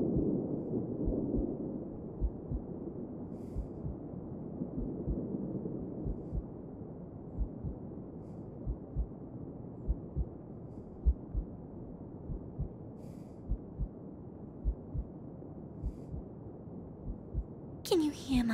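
A heartbeat beating a bit harder than usual, with steady, close, soft low thumps repeating evenly throughout, heard alone in a quiet setting.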